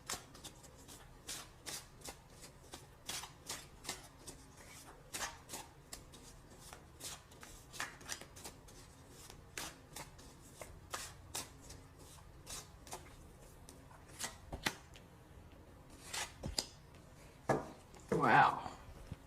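Tarot cards are handled and shuffled at close range in a steady patter of soft slaps and riffles, with a denser flurry near the end and a speaking voice at times.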